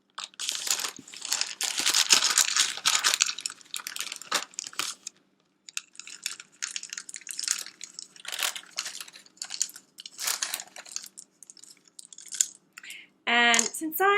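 Chocolate chips pattering and crinkling as they are scattered over brownie dough, a dense rustling stretch, then sparser clicks, with a person talking briefly near the end.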